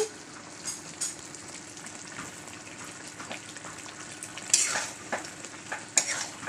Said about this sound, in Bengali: দেখো চিনির শিরার মধ্যে কি সুন্দর করে ফুটছে